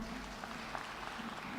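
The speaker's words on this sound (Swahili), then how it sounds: "na wale wengine tuwapigie makofi" Faint, steady applause from a church congregation during a Sunday Kikuyu service, a soft continuous patter lasting under two seconds.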